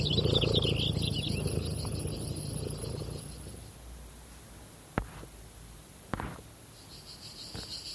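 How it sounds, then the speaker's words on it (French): A steady, high buzzing chorus of cicadas on a summer afternoon among olive trees, thinning midway before returning, with a few soft knocks in between. "le chant des cigales"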